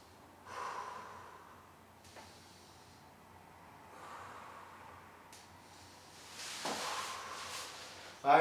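A person breathing audibly during a spine decompression stretch before a workout, with a few soft snort-like exhales and gasping breaths spaced over several seconds, fairly quiet against a faint background hiss.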